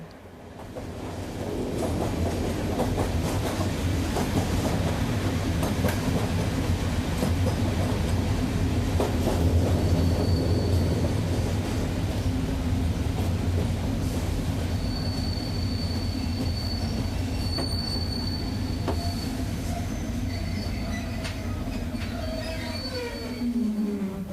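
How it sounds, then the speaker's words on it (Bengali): A moving train rumbles steadily for the whole stretch, with a loud continuous low roar of wagons on rails, rhythmic clatter and occasional high wheel squeals near the end, no voices. "চলন্ত ট্রেনের তালে লয়ে মিশে গিয়েছিলাম"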